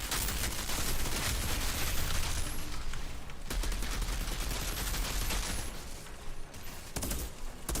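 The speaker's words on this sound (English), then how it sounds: "I didn't realize this was a burst fire sniper rifle." Heavy gunfire from a burst-fire sniper rifle in the game Outriders: dense, overlapping volleys of shots that stay loud and nearly continuous, easing slightly toward the end.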